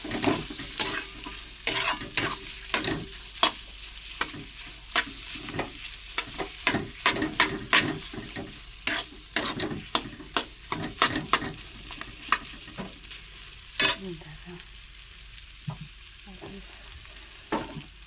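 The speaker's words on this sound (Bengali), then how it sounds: "ভাজা ভাজা করে নামিয়ে নেব" Spiced mashed potato with salt and turmeric fries in a pan, a soft steady sizzle broken by frequent sharp scrapes and taps of a spatula stirring it, close and uneven in rhythm.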